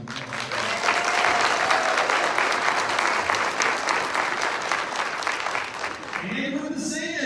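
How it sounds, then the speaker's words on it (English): An audience at a county schools spelling bee applauds the spellers in a hall, a broad, sustained roar of many hands lasting about six seconds before tapering off as an announcer resumes talking. "Let's give all of our spells a huge round of applause."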